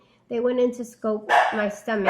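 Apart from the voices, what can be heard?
dog barking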